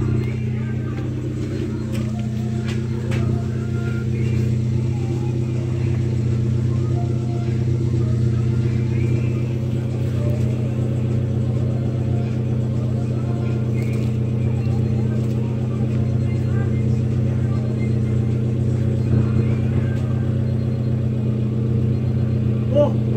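Car engine with a custom Rt4wd exhaust and Cherry Bomb muffler rumbles steadily at close range, a deep, even droning tone held throughout with slight swells and no sharp revs.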